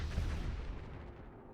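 Rapid artillery fire from Stormcaller units in the Mechabellum strategy game, a dense rumbling burst of shots that is loudest at the start and then tapers into a softer, decaying roll.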